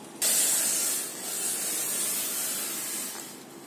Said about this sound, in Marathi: गॅस बारीक करते आणि पिठामध्ये पाणी ओतते.